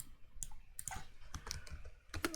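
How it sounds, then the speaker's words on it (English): Keys clacking on a computer keyboard as a quick note is typed, a soft, close run of irregular taps and clicks with no talking. "So let's type a quick note there."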